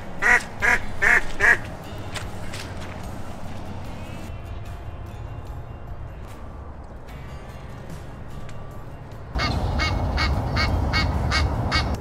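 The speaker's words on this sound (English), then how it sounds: "That's our second time trying to get the geese." Geese and Muscovy ducks honk in a quick burst of loud calls at the start, then sparse distant honks over outdoor background noise, with the honking returning louder near the end.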